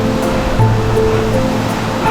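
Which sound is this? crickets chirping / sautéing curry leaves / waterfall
waterfall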